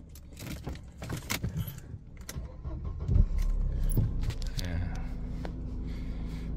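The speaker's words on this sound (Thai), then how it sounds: "โอเคกุญแจนะสตาร์ทรถนะครับ" A key jingles as it turns in the ignition of a Mercedes-Benz E230 W210, then the engine cranks and catches into a steady, close idle, with someone talking over the start.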